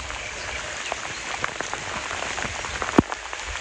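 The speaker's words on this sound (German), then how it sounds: "ich laufe jetzt hier mal durch den Regen." Steady rain falls outdoors around someone walking, a soft, even patter of drops on surfaces with scattered sharper taps and one louder knock near the end, fairly quiet and without speech.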